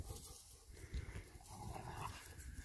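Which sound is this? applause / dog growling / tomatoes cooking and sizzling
dog growling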